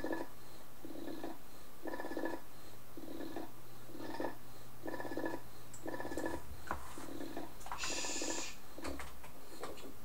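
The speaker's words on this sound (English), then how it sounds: "the dog's breathing really loud." A dog breathes loudly and rhythmically indoors in a library, with regular snoring-like huffs repeating about twice a second over a low steady hum.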